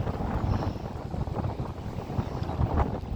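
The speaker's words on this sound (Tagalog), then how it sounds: "Dahil sa mahangin, medyo maalon ang lawa." Steady wind buffeting outdoors under overcast skies with broadband rumble and the wash of choppy lake water at Barangay Aplaya, Calamba, Laguna, continuous and fairly loud throughout.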